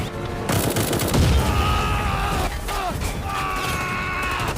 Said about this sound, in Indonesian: Di tengah aksi baku tembak itulah, Mukun CS dibuat kesulitan ketika pihak musuh terus-menerus melancarkan serangan